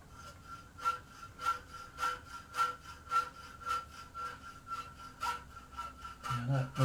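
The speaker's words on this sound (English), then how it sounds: "I've got my hacksaw. I'm just going to trim off the excess." A hacksaw trims excess metal off a horseshoe held in a vise: a steady series of about a dozen rhythmic rasping strokes with a faint metallic ring, close and fairly quiet, ending in a brief clatter.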